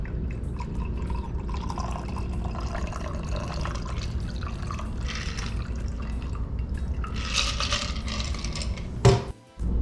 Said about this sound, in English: Now we'll go ahead and pour it in a nice chilled rocks glass.